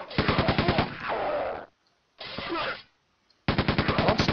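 Rapid automatic gunfire from a weapon in the video game Quake 2, loud bursts of evenly spaced shots with a sustained roar, a pause, a shorter burst, then another rattling volley.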